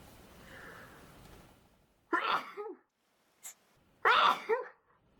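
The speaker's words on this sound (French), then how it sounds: "Je vais éternuer." Two sharp sneezes a couple of seconds apart, loud and close, with a brief sniff between them and a faint hum before.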